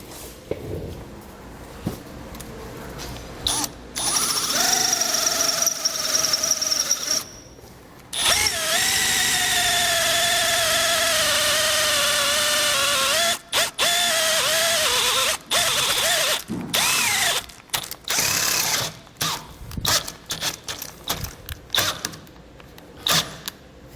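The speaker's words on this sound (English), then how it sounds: "I'll go ahead and get these drilled on out" A power drill bores holes for a Roadmaster Direct-Connect tow base plate on a 2022 vehicle, whining loudly in long sustained bursts, then in shorter stop-start pulses with brief pauses between.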